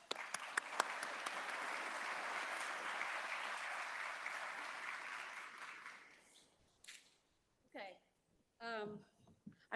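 Conference audience applauds to welcome a keynote speaker, a sustained wash of clapping for about six seconds that fades out, followed by a few moments of a single voice talking.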